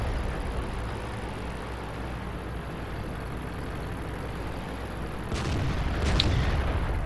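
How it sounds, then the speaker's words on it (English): A World of Tanks tank cannon fires a heavy shot, a deep boom followed by a second report, rising out of a steady engine-like rumble. "I try to get a shot into the Florence manager, fire a blind shot, most likely missed."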